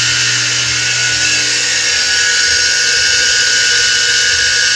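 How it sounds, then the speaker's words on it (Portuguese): A single-phase electric motor with a worn, bad bearing runs steadily and loud, a constant high whine with a rough hum underneath and no break throughout. "Vou ligar o motor e vou mostrar a corrente para você."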